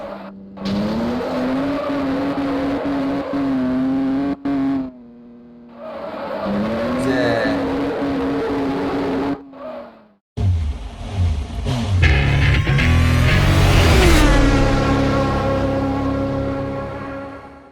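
A Volkswagen Golf in a mobile drift simulator game holds a steady high engine drone with brief dips, then revs up sharply as the tires squeal and the pitch sweeps upward, loud and close with no talking.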